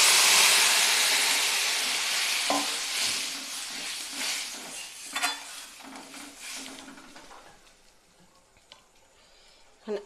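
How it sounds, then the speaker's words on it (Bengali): Water poured into a hot pan of dal tadka sets off a loud broad steamy hiss that slowly fades, broken by a few clinks of a spoon or utensil against the pan. "এবার আমি দিয়ে দেবো পরিমাণ মতো জল। বাটি ধোয়া জলটা আমি আগে দিয়ে দিচ্ছি।"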